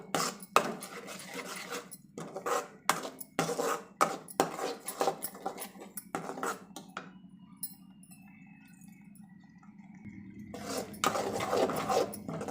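A spoon stirs and scrapes curry masala in a pan for an egg drop curry, making repeated close clinks and scrapes in an irregular rhythm, with a quieter, sizzling pause in the middle.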